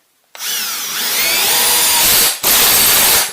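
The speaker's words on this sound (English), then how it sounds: "Now I'll put some in with the Milwaukee Combi and show you them going in." A cordless Milwaukee combi drill whines up close as it drives a single-thread screw into wood, a brief pause, then spins again at steady high speed.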